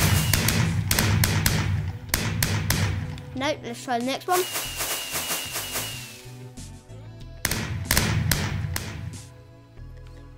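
Minecraft fireworks burst in the video game as a rapid series of sharp bangs and crackling pops, loud and close, clustered in bursts with a fizzing stretch between them, while a person talks over part of it.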